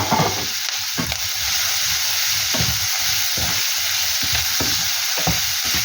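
Garlic sizzles steadily in a hot pan for ginataang laing, a loud continuous fry broken by repeated stirring scrapes and clatters.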